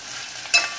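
Okra pulusu stirred with a spoonful of sugar, a soft scraping and stirring sound with one brief louder scrape near the end, close and quiet, with no talking.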